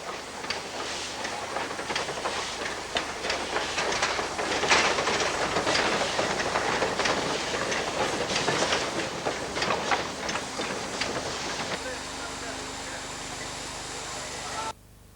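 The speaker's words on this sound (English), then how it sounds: "On the steep gradients, the engines sound like express trains at speed" A steam locomotive climbing a steep gradient at slow speed labours along with rapid chuffing and hiss, loud and sustained, with rhythmic rail clatter before the sound suddenly cuts off.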